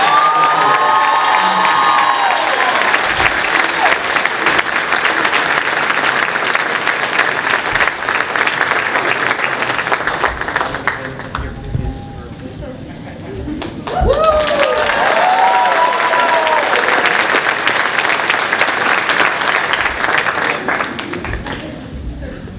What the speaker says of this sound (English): Can we give a round of applause to Jennifer Acosta for the recipient?